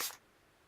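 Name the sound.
spraying water onto a paint palette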